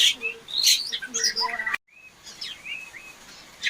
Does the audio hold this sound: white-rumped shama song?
yes